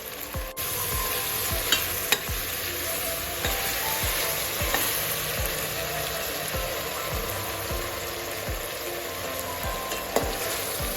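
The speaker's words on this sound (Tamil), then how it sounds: "உப்பு போட்டுக்கலாம். எப்பயும் நம்ம போட்டுப்போம். தக்காளி வதங்கிறதுக்காக" Tomatoes frying with salt in a pan for fish biryani, a steady close sizzle with regular scraping stirs roughly every half second to second throughout.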